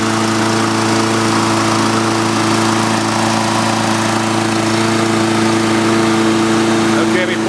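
A Scotts lawn mower engine running steadily just after starting on the first pull, a loud, constant close-up drone with no change in pitch throughout.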